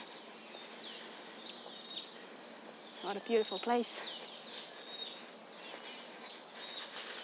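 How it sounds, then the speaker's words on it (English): Birdsong along a mangrove boardwalk: scattered chirps and calls at a moderate distance over steady outdoor ambience, with a person talking briefly partway through. "You can hear so many birds."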